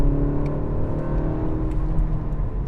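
Inside the cabin of a BMW 135, the engine hums and whirs loudly and steadily with a rising tonal drone and road noise as the car accelerates, with no one talking.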